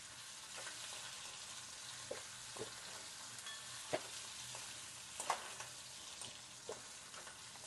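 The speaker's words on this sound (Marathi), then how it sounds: "यामध्ये टोमॅटो पण टाकून देते." Tomatoes hit hot onions browning in a pan, giving a faint, steady frying sizzle with scattered soft pops and a few stirring clicks, no voices.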